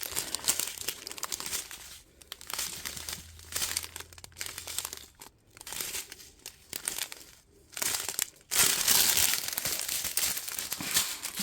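Plastic packaging of diamond painting drills crinkles and rustles continuously during an unboxing, loud and close, in bursts with brief pauses and a stronger stretch of crackling near the end.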